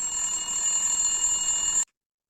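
A telephone rings in a home with a steady, bright electronic trill that lasts about two seconds and then cuts off abruptly.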